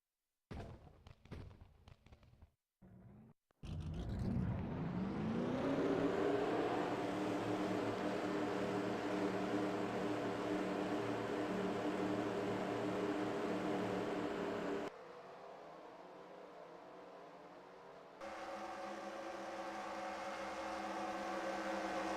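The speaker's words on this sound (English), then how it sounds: "Drivers, start your engines!" Forty stock-car engines in a racing video game fire up at a California speedway, with a few brief clicks before a dense, steady roar of idling motors that drops in level partway through and then rises again.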